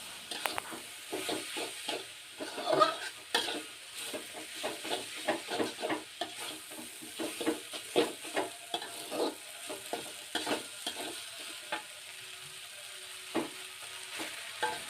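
Rice vermicelli being stirred with seasoning by hand in a bowl rather than a wan: soft, repeated scraping and swishing strokes in an irregular rhythm, close and fairly quiet, with a light hiss beneath.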